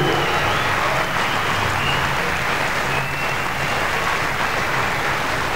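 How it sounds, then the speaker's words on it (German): Loud, dense applause from a large audience at the WFF Universe 2000 competition, sustained and even throughout without a break. "Applaus"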